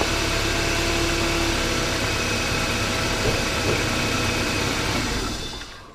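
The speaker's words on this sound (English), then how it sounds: "So I just turn the engine off." A 1995 BMW E36 318i engine idles with a steady broadband rumble, then cuts out near the end and the noise fades away.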